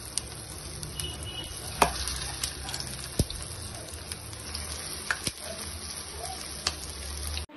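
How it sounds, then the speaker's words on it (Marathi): Frozen potato, cheese and corn nuggets fry in hot oil in a kadhai, giving a steady close sizzle broken by a few sharp pops and clinks, with no talking. "मागीर फ्रोजन जाल्लेले नगेट्स एक एक करून तेलान घालून ते खरपूस बरे भाजून घेवपाक जाय."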